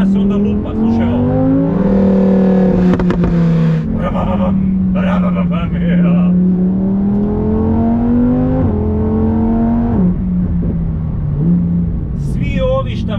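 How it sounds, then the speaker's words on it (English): Lamborghini Huracan Performante engine revving hard through its exhaust, with rising and falling rev sweeps and crackles as the throttle lifts, loud and close with no talking over it. "I na ispuhu, kada pustite gas, onda lupa, slušaj ovo."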